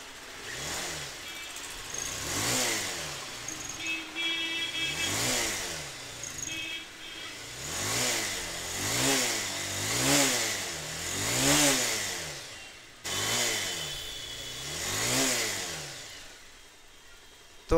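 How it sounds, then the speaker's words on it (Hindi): A Bajaj Pulsar 220 BS6 motorcycle, just repaired for a sensor fault code, revs repeatedly after starting, about ten sharp throttle blips rising and falling in a rhythmic sequence over a steady idle, close and clear. "तो चलो बाइक को स्टार्ट करते हैं"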